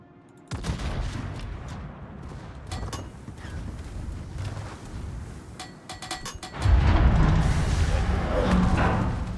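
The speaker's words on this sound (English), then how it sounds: "Iowa is giving us broadside." An Iowa battleship fires a broadside in World of Warships, giving deep booming blasts that swell into a loud, sustained rumble in the second half, with scattered sharper reports and a voice talking over the action.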